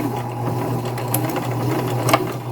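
A sewing machine stitches a seam steadily, its fast mechanical whir and needle chatter continuous throughout with a low motor hum underneath.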